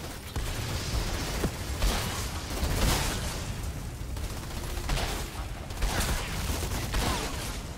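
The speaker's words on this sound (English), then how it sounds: "That was a pretty dope shot." Gunfire from a weapon in the video game Outriders: a dense, steady barrage of rapid shots with sharp bursts recurring through the stretch, loud and continuous with no voices.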